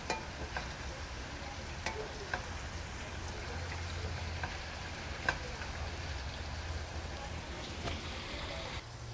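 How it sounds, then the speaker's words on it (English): Molokhia leaves being stirred through a sizzling mixture in a pan, with a continuous soft frying hiss and occasional scraping ticks. A voice talks faintly underneath. "So she's just mixing the mixture with the Mlokhiyeh leaf, as you can see."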